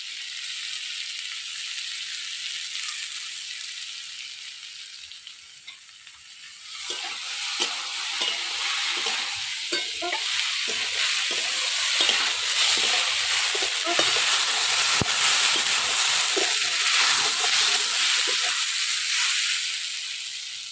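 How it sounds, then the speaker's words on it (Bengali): Potatoes and vegetable stalks frying in a pan give a steady, close sizzle that swells louder partway through, with scattered stirring scrapes and crackles, no voices. "আলু আর ডাটা ভাজা অর্ধেক হয়ে গেছে, এবার লঙ্কা আর পেঁয়াজ দিয়ে দেবো।"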